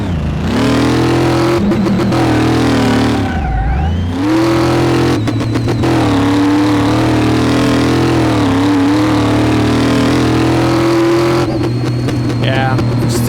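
Supercharged car engine in the video game Car Mechanic Simulator 2018, with tuning parts fitted, holds a loud, steady droning tone that briefly dips and swoops back up in a quick rev, then sustains near and constant.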